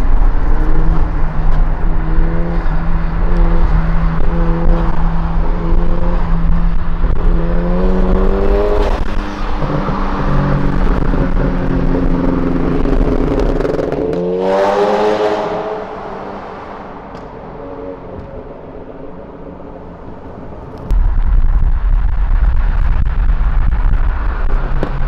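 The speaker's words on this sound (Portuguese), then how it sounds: "agora eu vou gravar pra vocês só o backfire do carro" A Volkswagen Jetta TSI with its exhaust firing flames revs hard and close, rising and dropping several times with sharp pops and a loud crack near the middle, then settles into a lower idle before the engine surges again.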